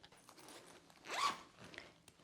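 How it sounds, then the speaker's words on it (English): A zipper run open on a fabric packing cube, one short quick rasp, close but quiet, alone without talk. "you unzip to expand the packing cube"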